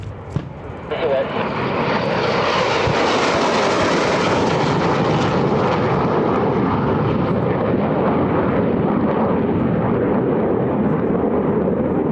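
At EAA AirVenture, a warbird aircraft makes a hot pass, its engine roar building from a distance into a loud, sustained drone that fills the air while an announcer talks over it.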